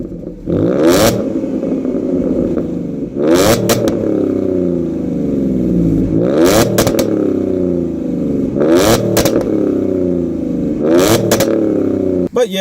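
A tuned car engine revs hard again and again, hitting the rev limiter and popping, with sharp crackling bursts between sustained high-rpm roars, close and loud.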